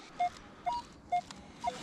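A handheld metal detector gives four short, clipped electronic beeps at uneven intervals, clear and close over a quiet outdoor background with no talking.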